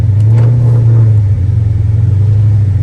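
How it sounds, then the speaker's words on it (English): A Dodge Charger SRT drives on icy snow through a corner, its engine a loud, deep rumbling drone with a steady low tone that dips briefly before carrying on, close and continuous. "I'm about to slide this corner for you"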